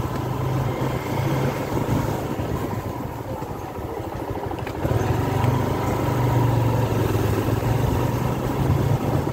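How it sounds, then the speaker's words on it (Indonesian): A motorcycle passes along a busy main road near a rented house on the outskirts of Jakarta, its engine droning steadily throughout and swelling slightly louder midway amid continuous traffic noise, with no talk. "Tuh kan ada motor lewat itu udah jalan raya ya"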